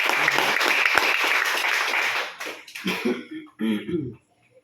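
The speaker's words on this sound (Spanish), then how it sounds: "Denle palmas al Señor Jesús." A church congregation claps for Jesus during a sermon, a dense burst of applause that thins out after a couple of seconds, followed by a few short voices or coughs.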